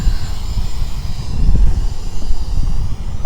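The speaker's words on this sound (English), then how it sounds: "Here is the aircraft flying. It's battling the wind right now pretty well." Hubsan X4 H507A Star Pro beginner drone flying in wind, a steady low rumbling whir with gusty buffeting that swells and dips throughout, fairly close and loud, with no talking.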